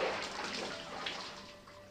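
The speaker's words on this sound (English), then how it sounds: "she slowly and meticulously waded her way to the edge of the spring" Water sloshing as someone wades through a hot spring in the Corpse Party: Blood Drive video game, a soft continuous splashing wash that stays fairly even and quiet throughout.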